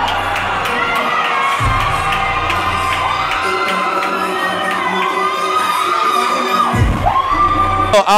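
A crowd at a fitness championship in Jamaica cheers, whoops and shouts loudly and continuously, with excited high-pitched yells rising over the steady roar.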